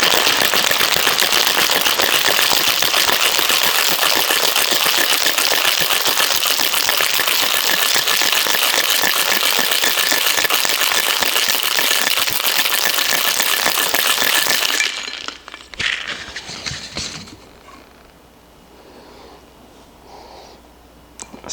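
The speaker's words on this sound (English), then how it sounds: "Then we are going to get some ice and shake this up." Ice rattles hard and fast inside a cocktail shaker as a whiskey caramel drink is shaken for about fifteen seconds, then the shaking stops and quieter clinks and handling follow.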